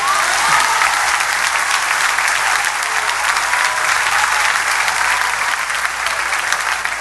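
Audience applause at a French-language gathering, loud and sustained, a continuous dense crackle of many clapping hands without a break.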